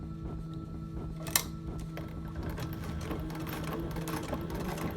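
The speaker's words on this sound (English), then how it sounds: "Tucking the fabric pieces underneath and sewing." A sewing machine stitches fabric pieces to attach a pocket, giving a steady, quiet mechanical hum with rapid needle ticking and one sharp click partway through, heard close and alone.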